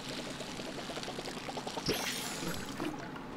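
Water pours steadily over plants in the video game Palia, a soft continuous splashing stream with a brief brighter gush midway, fairly quiet and free of talk.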